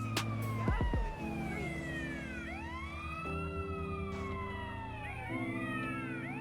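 Police sirens wailing in GTA San Andreas as cop cars chase an ambulance, rising and falling sweeps layered over steady engine drone and traffic rumble, loud and continuous with a brief thump near the start.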